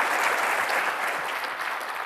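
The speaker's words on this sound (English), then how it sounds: "Let's give them another round of applause." Conference audience applauding, a dense, even wash of many hands clapping that holds steady and fades slightly toward the end, with no talking over it.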